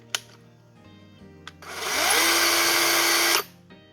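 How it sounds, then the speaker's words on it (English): A small electric chainsaw with a chain brake: two brief clicks, then the motor spins up to a loud high whine for under two seconds before the brake engages and it cuts off sharply, leaving quiet. "when you initiate that, the band clamps, stops the chain from spinning, and cuts the power to the electric motor"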